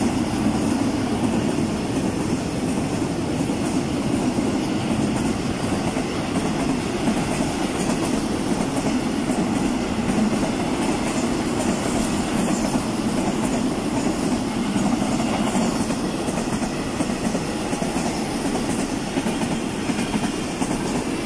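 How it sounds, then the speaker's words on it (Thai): A freight train rumbles steadily past with continuous clattering wheels and rolling noise, fairly close, with no voices. "อันนี้รถไฟขบวนนี้เป็นบรรทุกสินค้านะคะ"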